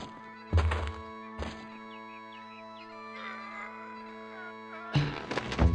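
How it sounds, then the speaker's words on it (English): Caber toss thuds in The Curse of Monkey Island video game, with a couple of heavy, dull impacts early on, then quiet game music and another thump near the end. "All right, then let's do the caber toss."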